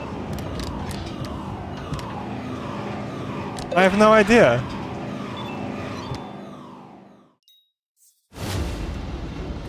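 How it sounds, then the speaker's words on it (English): Alarm siren in the video game Docked wailing in repeated rising sweeps under talk, with a voice speaking over it, before cutting off into near silence and a burst of noise. "Why is the siren going off?"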